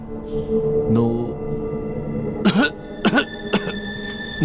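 A few sharp coughs burst out in quick succession near the end, after some low murmuring vocal sounds at the start.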